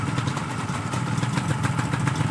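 A Yamaha RX-Z 125 motorcycle engine idles steadily nearby, a low throbbing rumble with a fast, even pulse and no voices.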